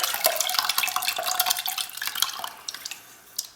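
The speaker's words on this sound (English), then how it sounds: "all we're going to do is dump this into a medium saucepan here" Cranberry-orange glaze for smoked ham is poured from a bowl into a medium saucepan, giving a close, wet splashing and dribbling run of liquid that ends in a few scattered drips.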